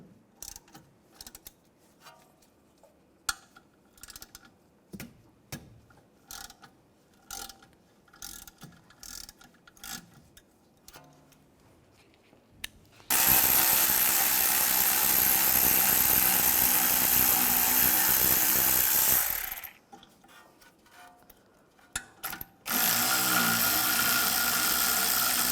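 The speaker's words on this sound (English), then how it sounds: "Now I'm going to use a 7mm hex socket. Take these bolts out." Slide bolts on a 2004-2010 BMW X3 front brake caliper are backed out with a 7mm hex socket: scattered ratcheting clicks at first, then two long, loud bursts of steady tool noise with a short quieter gap between them.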